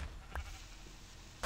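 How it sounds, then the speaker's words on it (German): A sheep in the video game Minecraft gives two short, faint bleats, one early and one at the very end, over a quiet background hiss. "Das ist ein Schaf, das nehme ich mir auch gleich."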